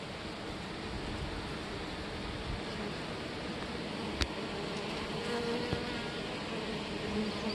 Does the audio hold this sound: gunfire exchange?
no